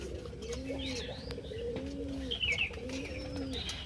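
Pigeons coo softly on a rooftop, with a few low, regular cooing phrases repeating under faint chirps from other birds in a quiet outdoor setting.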